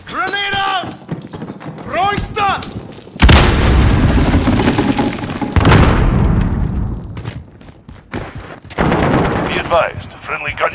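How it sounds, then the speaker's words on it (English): Cluster strike explosions in the 2019 Call of Duty Modern Warfare, a Team Deathmatch match: heavy booming blasts roll on for several seconds amid gunfire, with game voices calling out before and after. "Cluster strike is go for launch."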